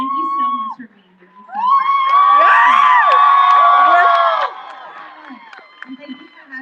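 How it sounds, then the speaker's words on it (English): Studio audience at a Vogue interview with Demi Lovato claps and cheers loudly for a few seconds with whoops and shouts, rising abruptly then fading back to a quieter room. "we're going to clap again"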